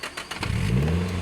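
A 1994 Nissan 180SX with an SR20 engine cranks for a moment, catches and revs up, sputtering starter pulses giving way to a rising, close engine roar.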